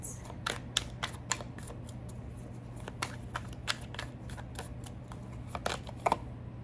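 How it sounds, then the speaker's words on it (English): Tarot cards being shuffled: quiet, crisp riffling clicks and snaps repeating irregularly, close up, with no talking. "let's shuffle my cards"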